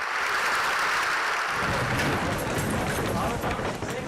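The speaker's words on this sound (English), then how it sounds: "To huge applause from the room." Huge applause from the room at climate talks as a key text is agreed, a dense, steady wash of clapping that swells louder midway and stays full to the end.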